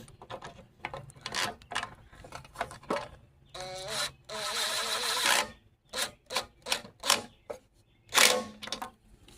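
A 13 mm socket wrench ratchets on a bolt of a Briggs and Stratton push mower, giving close, rapid clicking strokes in uneven bursts with a longer grinding stretch midway.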